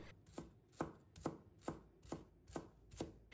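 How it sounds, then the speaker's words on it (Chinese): A kitchen knife chops scallion whites into small pieces on a cutting board, with eight crisp, evenly spaced strikes in a steady rhythm, close and alone. "如果喜欢吃小葱的，我们要准备1把小葱，把葱白也给它切成葱花。"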